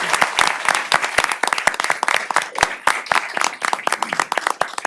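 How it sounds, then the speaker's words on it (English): Applause for honoured citizens at a city council meeting in Victoria, a dense round of clapping from the chamber audience with sharp individual claps standing out, steady and fairly loud throughout. "Let's all join in a round of applause for these fine individuals"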